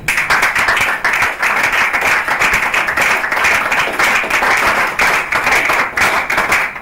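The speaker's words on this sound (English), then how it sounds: "I think I would ask for a clap for them" An audience at the 2019 Lagos State Productivity Order of Merit Award ceremony claps for the award recipients in steady, close applause that fills the whole stretch.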